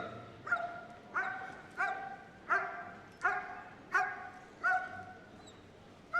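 A police dog barks repeatedly at a steady pace during a display at an indoor dog show, eight or so sharp barks, moderately near, over a faint murmuring crowd background.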